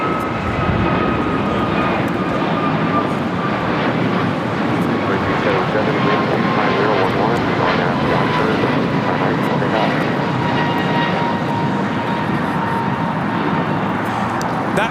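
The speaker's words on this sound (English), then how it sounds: "That was American Airlines 285 taking off to Lihue on an A321neo." An American Airlines Airbus A321neo takes off at LAX with a steady, loud jet roar that holds for the whole stretch, with people talking beneath the noise.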